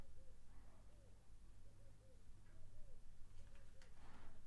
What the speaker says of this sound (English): I'm hearing a bird outside as I pull your cards.